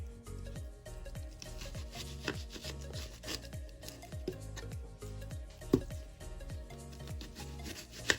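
A knife trimming the outer parts off a sprouted onion on a board, giving a run of regular, rhythmic cuts and scraping strokes at close range, soft and with no talking.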